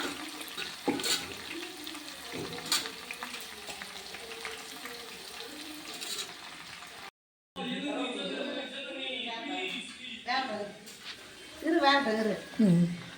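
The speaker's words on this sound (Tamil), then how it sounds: "இந்த மாதிரி தான் நம்ம வாழைப்பூ வறுக்கணும்" Chopped banana flower fries in hot oil as a vegetarian anchovy-style fry, a soft continuous crackling hiss running under a person talking, with a brief cut midway.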